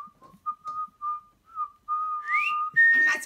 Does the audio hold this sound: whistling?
yes